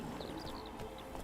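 Horse hooves clip-clopping steadily in The Witcher 3, a rapid continuous patter under game music, with a few short high tones and no speech.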